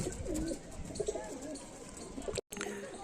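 Several old-line Kalshira Giribaz pigeons coo nearby in steady, throaty bursts that overlap continuously, with a brief dropout near the end.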